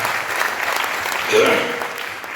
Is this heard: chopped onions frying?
no